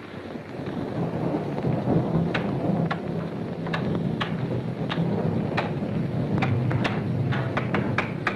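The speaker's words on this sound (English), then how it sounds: "That's the thunderstorm." A thunderstorm rumbles steadily with heavy rain and a low continuous roar, broken by a series of sharp crackling strikes that grow more frequent toward the end.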